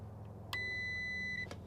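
A multimeter sounds a continuity test beep on a car's electrical circuit: one steady high electronic tone lasting about a second, faint and clear against a low background hum.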